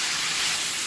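Steady, even hiss of steam rising from potato and courgette gratin with lardons as it cooks, a continuous broadband rush heard up close with no talk.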